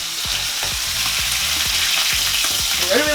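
Pesto-coated chicken, laid pesto side down two at a time in a pan with plenty of oil, sizzles loudly and continuously up close, with spattering pops throughout and no voices.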